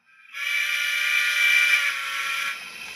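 A model train DCC sound decoder sounds its horn in one sustained, steady, reedy blast lasting a little over two seconds, close and alone, then cutting off into faint hiss.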